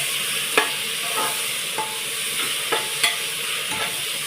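Moong dal khichdi ingredients sauté with fresh coriander in a pan, an even background sizzle broken by soft, regular stirring taps about every half second, nearby with no talk.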